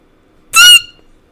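A little green bird, a canary, gives one short, bright chirping squeak up close, a quick burst of about a quarter second standing alone against a silent room.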